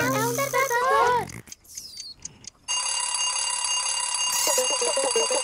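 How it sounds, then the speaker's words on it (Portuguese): A cartoonish melodic jingle from the Pocoyo cartoon gives way to a brief pause, then a loud, continuous electronic alarm clock ring that keeps going to the end. "É um despertador!"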